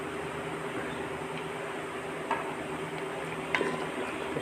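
Yogurt stirred into chicken cooking in a pot, a steady low simmering hiss with a couple of soft spoon knocks against the vessel, close and even.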